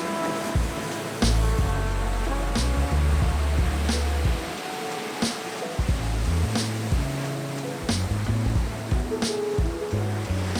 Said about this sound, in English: Digging through waves is really hard.